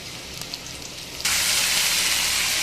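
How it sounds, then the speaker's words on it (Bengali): Bitter gourd (karela) frying in hot oil: a quieter sizzle that abruptly swells into a loud, steady, dense hiss partway through, close and continuous with no talking. "করলাটা কিন্তু আমি লাল লাল করে ভেজে নেব"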